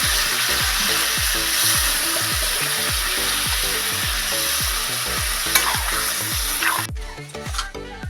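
Fried spices and vegetables for a paneer shukto sizzling loudly in a pan, with rhythmic scraping strokes of a spatula stirring over a steady hiss, before the sizzle cuts off near the end.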